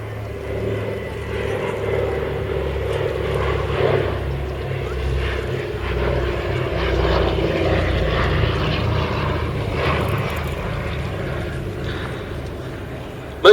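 A C-47 propeller transport plane drones steadily at an airshow, its engine rumble loud and continuous throughout. An announcer's voice can faintly be heard over the engines.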